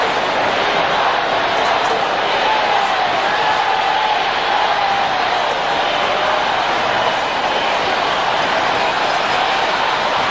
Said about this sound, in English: The crowd is chanting, "We want Campbell."